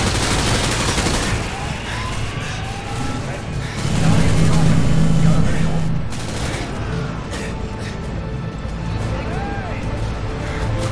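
Loud sustained gunfire in Call of Duty Modern Warfare 2 on PC, rapid automatic bursts and heavy booms layered over a dense battle din, with people talking over the shooting.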